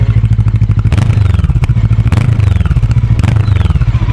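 An FKM Express 500 Racer big bike idling close by, a loud, steady low engine throb with a fast pulsing beat and occasional mechanical clatter, no speech over it.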